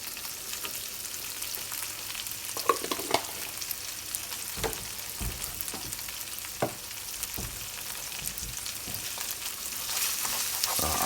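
Minced garlic sizzles in a hot pan while being stirred, during preparation of a spinach and bacon quiche filling; a steady soft frying hiss with scattered scraping and clinking of the utensil against the pan.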